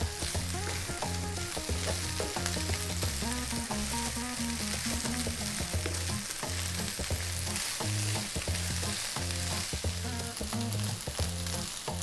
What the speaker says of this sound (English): That is your rice frying there.